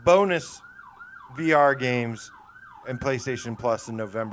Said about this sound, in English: Sorry about the sirens on my end